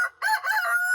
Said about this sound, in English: We got a rooster.